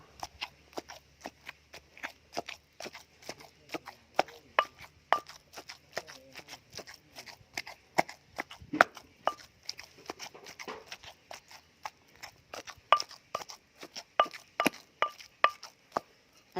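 Beef pounded in a mortar for Thai fermented sour meat: steady, close, rhythmic thuds, about two to three per second, repeating for over fifteen seconds with brief faint voices between.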